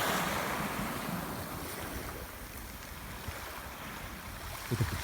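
Motor boats pass on the sea off Tsandripsh, Abkhazia, a distant engine rumble blended with surf and heavy wind buffeting the microphone, and no one speaks.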